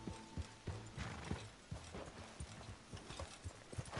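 A horse gallops in Red Dead Redemption 2, its hooves beating a quick, uneven clip-clop rhythm close by, with faint tack rattle and no talking.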